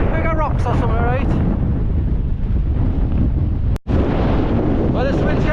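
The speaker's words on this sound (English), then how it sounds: "this wind's getting worse, so we're considering bailing" Strong, stormy wind buffets the microphone in continuous heavy rumbling gusts at a campsite, loud throughout with a brief dropout, while people talk faintly underneath.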